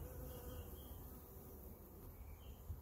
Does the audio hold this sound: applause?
no